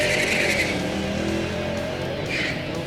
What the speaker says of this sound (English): Little spinning, chirping in third.